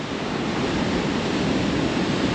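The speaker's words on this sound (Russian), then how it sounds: "на море опять поднялся маленький шторм" Stormy sea surf at Lazarevskoye on the Black Sea coast, a steady dense roar of breaking waves with wind noise on the microphone, loud and continuous throughout with no voices.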